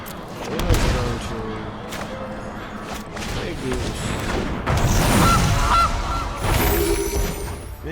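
A video game goose honks repeatedly at close range, loud brassy calls mixed with crashing game effects and no voices.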